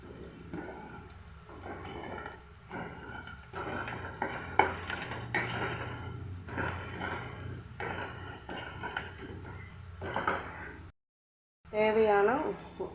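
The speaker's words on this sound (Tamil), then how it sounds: "ஆயில் ஊற்றிட்டு கடுகு, உளுத்தப்பருப்பு, வெங்காயம் போட்டு தாளிச்சிக்கலாம்." Mustard seeds, urad dal, onion and a pinch of asafoetida are tempered in oil in a pan, with a soft sizzle, stirring scrapes and clinks of utensils running under a speaking voice.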